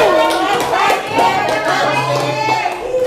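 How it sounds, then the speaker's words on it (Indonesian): Students in an Indonesian vocational school classroom clap their hands in unison as part of a group game, the claps landing over steady chatter and raised voices from the class. "Clap, tepuk tangan."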